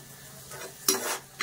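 Raisins frying in a pan and being stirred: a steady close sizzle with scraping stir strokes, one sharper, louder scrape near the end.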